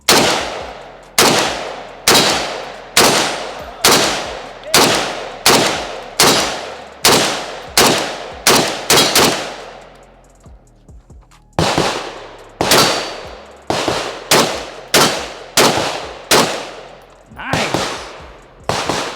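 Loud, close semi-auto shots from a Zastava M70AB2 AK rifle with Bakelite furniture, a steady string of about fifteen sharp cracks with a brief pause near the middle before firing resumes at the same even pace.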